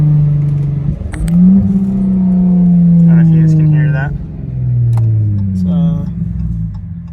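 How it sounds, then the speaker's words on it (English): A 2017 Dodge Charger SXT AWD engine blips and swells on a downshift, revs climbing and falling in smooth, loud surges heard from inside the car, with someone talking over it. "if I downshift, and I don't know if this does justice, but be wary of all the noise that's about to happen."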